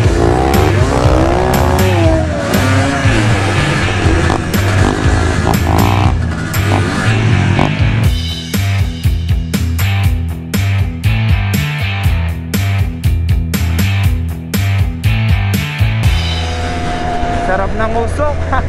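Cars racing around an off-road track, engines loud and close with revving, passing roars and occasional tire squeal, with voices talking over the noise.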